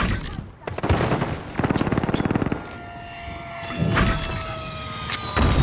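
Air support gunfire in Call of Duty: Modern Warfare, with rapid bursts of mid-distance fire and booming impacts among radio chatter and aircraft hum, all steady and fairly loud.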